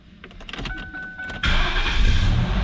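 The starter of a 1997 Lincoln Mark VIII with a 4.6L DOHC V8 whines and clicks for about a second, then the engine catches and settles into a loud, steady idle nearby.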